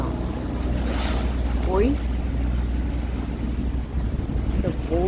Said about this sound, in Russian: Это волны такие прям.